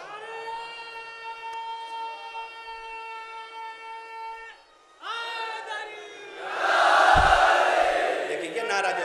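At a Shia majlis gathering at a dargah in Jogipur, a single voice holds a long, loud sustained call of a religious slogan, then a crowd answers with a broad, roaring shout that swells at the end.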